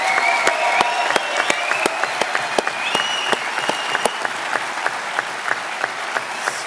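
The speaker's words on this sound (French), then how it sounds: "on peut faire un tonnerre d'applaudissements à l'équipe qui a organisé ce" A congress hall audience at a national young farmers' congress claps steadily in sustained applause for the organising team, with sharp individual claps standing out over a dense wash of hands and no talking.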